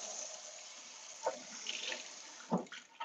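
Running water from a kitchen tap splashing over a cutting board being rinsed in the sink, a steady close hiss broken by a few louder splashes and knocks as the board is moved under the stream.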